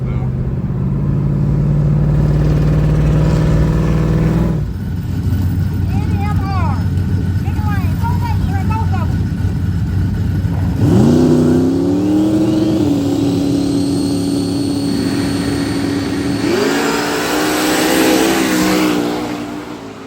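Loud engines of fast cars at LS Fest 2023 rev and accelerate in bursts, rising in pitch as they speed up, with a crowd murmuring in the background.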